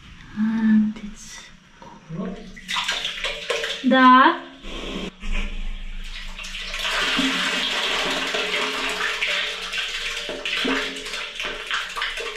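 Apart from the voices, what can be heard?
water flowing through new waste pipes into septic tank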